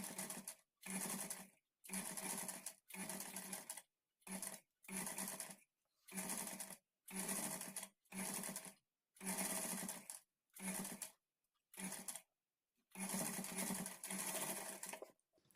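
A sewing machine stitches the back neck of a blouse in short, loud, close-up runs, each a steady mechanical chatter, separated by brief silences as the fabric is repositioned.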